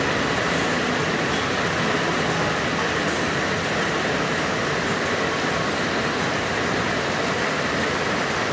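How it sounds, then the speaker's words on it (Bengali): A heavy downpour falls at a forest village homestay in Rampuria, North Bengal, a dense, steady, loud hiss of rain that continues unbroken throughout. "লাঞ্চ করতে করতে শুরু হয়ে গেল মুষলধারে বৃষ্টি।"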